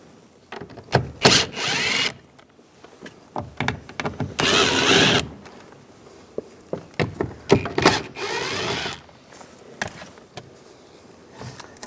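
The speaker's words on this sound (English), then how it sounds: "We're going to remove the speaker, use a 5mm socket, take these screws out." Power tool with a 5mm socket removing door speaker screws on a 2011-2018 Ram 1500 door, with three loud whirring bursts of a few seconds each, separated by quieter handling clicks and rattles.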